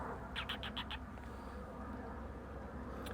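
Biggles, a pet magpie, lets out a quick run of five bright, evenly spaced calls early on, fairly faint against a steady low background hum, then falls quiet for the rest.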